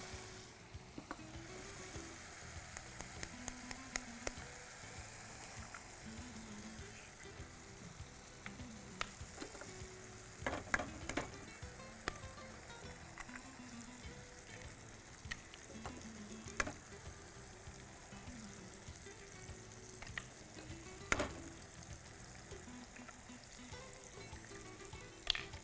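Four eggs fry in a pan and are stirred continuously into scrambled egg, a steady sizzle running throughout with repeated light taps and scrapes of the spatula, close up and with no talking.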